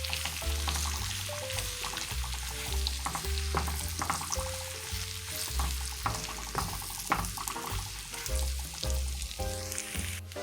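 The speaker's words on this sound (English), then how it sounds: "add in your onion and also your minced garlic, and you want to let that saute for about 3 minutes" Onion and minced garlic sautéing in melted butter, a close, steady crackling sizzle with bursts of stirring under a background music bed.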